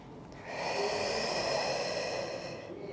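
One long, deep inhale, drawn slowly through the nose during a breathing exercise in a posture and neck-relaxation class, close and alone with no talking.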